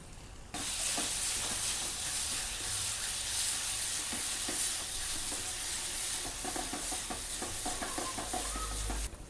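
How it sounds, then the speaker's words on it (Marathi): Green chilies and turmeric sizzle and sauté steadily in a hot pan, a close, continuous frying hiss broken by occasional stirring scrapes. "मिरची छान परतून झालेली त्यातच टाकून घेऊ अर्धा चमचा हळद"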